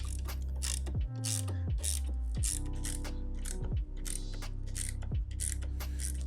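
Quiet ratcheting clicks come from tightening the hinge fasteners on a De-Trakor wing, with small mechanical clacks and pauses between turns and no voices.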